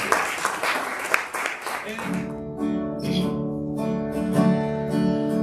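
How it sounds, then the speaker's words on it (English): An audience applauds for Margaret Zimmerman at the close of a talk; the clapping starts loud and fades within two seconds as singing with sustained instruments takes over. "let's give another round of applause for Margaret"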